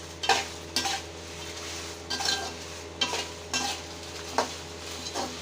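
Spices, asafoetida and dried red chillies are stirred in a pan for gongura pickle, with a low background sizzle broken by about eight distinct scraping strokes of a spatula against metal, close and moderately quiet.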